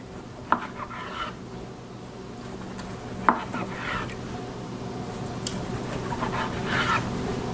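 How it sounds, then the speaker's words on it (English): A knife cuts roasted, rested pork tenderloin on the diagonal into half-inch medallions, giving soft rasping, scraping strokes with a couple of sharp taps on the board, close and fairly quiet. "I just want to cut these at a diagonal into about 1/2-inch medallions"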